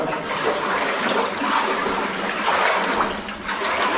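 Close, churning splashes and sloshing of water as someone wades through a flooded, muddy mine adit, with continuous uneven surges of movement through the water.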